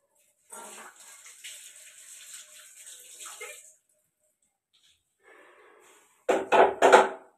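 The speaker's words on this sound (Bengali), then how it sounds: "এটাকেও ধুয়ে নিলাম।" Tap water runs in a home kitchen as an item is rinsed under it: a steady, close rush for about three seconds, a pause, then a few louder splashing bursts.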